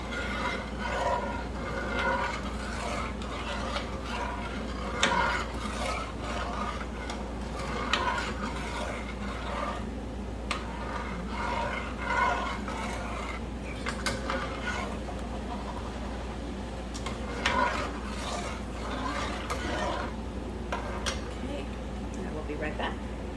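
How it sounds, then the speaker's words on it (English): Corn cob jelly mixture stirred in a pot, a soft continuous scraping and sloshing with light sizzling, close and steady beneath a low hum, with faint intermittent clinks. "and I'm going to stir."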